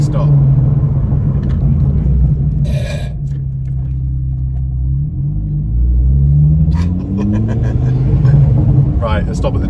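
A Mk2 Ford Focus ST fitted with Brembo four-pot big brakes making a quick stop on a road, loud steady engine and road rumble with a falling engine note as it slows, under talk.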